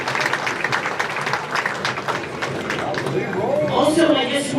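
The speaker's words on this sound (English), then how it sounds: "One more round of applause, please, for the amazing staff of the PJBT." Applause for the staff at a bowling tournament awards ceremony, a busy patter of clapping with voices talking over it and some whoops near the end.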